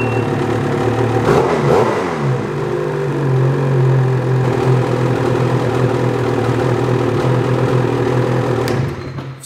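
A BRP Ski-Doo Summit 850 E-TEC snowmobile engine starts with a brief rising rev, then settles into a steady, loud idle hum while warming up that carries on without a break before cutting off near the end.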